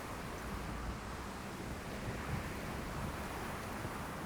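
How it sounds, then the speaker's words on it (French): A gust of wind sweeps over the outdoors and fills the microphone with a broad, steady rushing roar that holds for several seconds without talk. "c'est un coup de vent"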